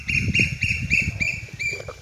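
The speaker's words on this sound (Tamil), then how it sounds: "அழகான ஒரு குயில் சத்தம்." A koel calls outdoors near a neem tree at sunset, a steady series of clear, repeated high notes close by over a low rumble of wind or background noise.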